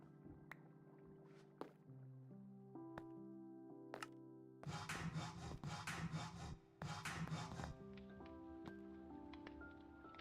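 Repeated rough rasping strokes of a file on tin rods in a Minecraft modpack, several bursts of scraping over a steady layer of game music tones.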